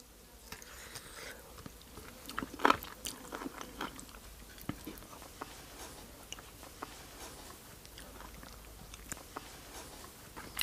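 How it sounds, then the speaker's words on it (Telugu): Quiet, close crunchy bites and chewing on a small piece of raw mango, a handful of sharp crisp snaps followed by softer steady mastication, with no talking. "ఇప్పుడు మామిడికాయ ముక్క ఒక చిన్న ముక్కలా కొరుక్కొని"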